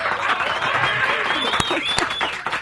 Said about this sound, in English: Y'all give them a big round of applause and congratulations, y'all.